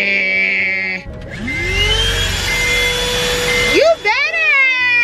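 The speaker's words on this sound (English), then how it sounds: "So we gonna vacuum real quick." A vacuum cleaner runs inside a car's interior, a steady loud whine and rumble lasting several seconds before cutting off, with a brief voice at the start and end.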